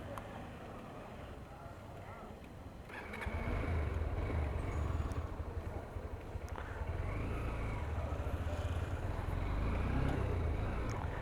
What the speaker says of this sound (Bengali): ইঞ্জিন সাউন্ডের মধ্যে একটু হালকা থাম্প আছে